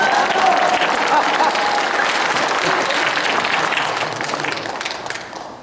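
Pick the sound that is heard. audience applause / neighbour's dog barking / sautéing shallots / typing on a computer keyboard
audience applause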